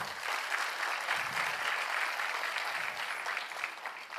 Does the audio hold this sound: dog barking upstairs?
no